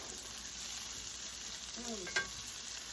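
Garlic fries in a pan with a steady, broad sizzle that holds evenly throughout, faint and close, with a brief clink of a utensil near the end.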